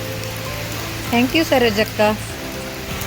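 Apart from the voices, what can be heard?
rain falling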